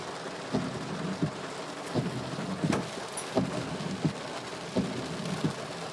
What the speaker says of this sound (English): Oh, look, the rain's actually letting up a little.